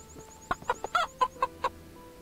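A chicken in the video game Russian Village Simulator clucks in a string of short, evenly spaced clucks, clear and close, over a quiet synthetic background tone.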